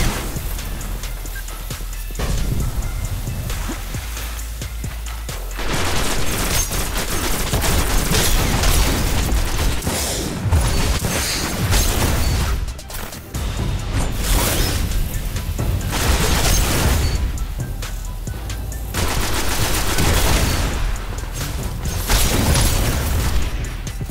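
Rapid gunfire bursts and booming explosions from Destiny multiplayer combat, loud and continuous with brief lulls, no voices over the fighting.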